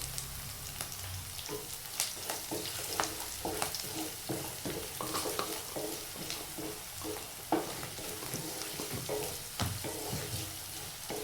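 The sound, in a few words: stirring bitter gourd dish frying with turmeric in pan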